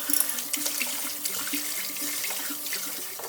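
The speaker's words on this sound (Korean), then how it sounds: "채에 받쳐 찬물에 차게 헹궈" Cold tap water runs steadily over boiled glass noodles in a strainer at a kitchen sink, a continuous close splashing and trickling with no voices.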